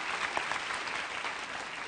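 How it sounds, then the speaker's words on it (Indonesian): Church congregation applauding together at an evening service, a dense, steady burst of clapping from many hands filling the room. "Kasih tepuk tangan untuk Tuhan Yesus."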